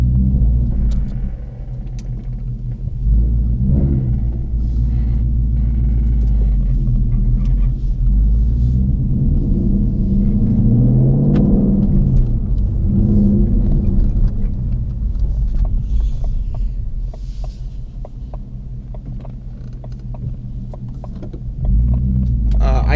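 A 2019 Mustang GT Premium with a Corsa Xtreme cat-back exhaust drives with a steady, deep rumble that swells and eases as it runs. The engine drone continues throughout, with no voices heard over it.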